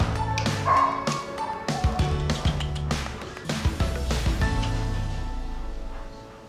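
Labrador dogs bark at a canine service centre, a run of loud, close barks and yips in quick bursts that fade toward the end, with some voices around.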